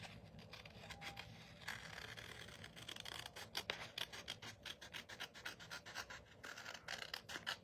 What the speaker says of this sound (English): take our paper snips and cut around the edge of the envelope